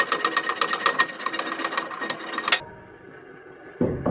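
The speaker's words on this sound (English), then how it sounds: "So it's the old hacksaw job." A hacksaw cuts through something in a woodshed kitchen with a fast, steady run of close, rasping strokes that stops abruptly partway through, followed by quiet and a brief knock.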